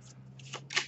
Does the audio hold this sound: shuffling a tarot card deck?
yes